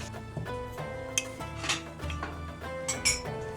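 A spoon clinks repeatedly against a cup while coffee is made, giving bright, close chinks in an uneven rhythm with no talk.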